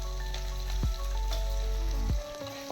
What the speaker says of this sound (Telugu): పచ్చిమిర్చి వేగుతుంటే వెంటనే మనం ఇందులో ఆనియన్స్ వేసేసుకుందాం